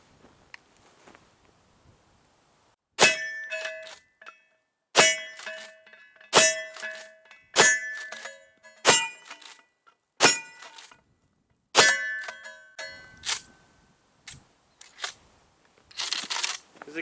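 A Remington 870 pump shotgun fires Herters target loads outdoors, about ten sharp, loud single reports spaced a second or so apart with quiet gaps and faint handling noise between shots.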